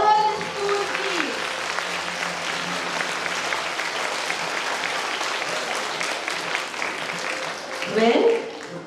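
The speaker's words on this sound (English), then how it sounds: "A big round of applause for all the school teams." Audience applause for school teams at a school junior section jubilee function, steady dense clapping across the whole stretch, swelling slightly near the end, with a voice heard briefly at the start.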